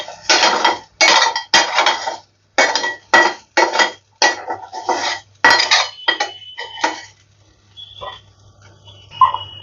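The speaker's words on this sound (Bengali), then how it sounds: "আলুটা আমি তুলে নিচ্ছি।" Metal utensils clink and scrape against a pan as fried potatoes are lifted out, a quick series of sharp clatters and knocks with brief pauses, close and loud, fading to lighter taps at the end.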